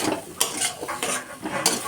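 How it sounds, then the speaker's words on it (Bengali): Spice paste is stirred in a hot frying pan: a spatula scrapes repeatedly against the metal while oil sizzles softly underneath. "এটা নাড়তে হবে যতক্ষণ না মশলাটা থেকে তেল ছেড়ে দিচ্ছে"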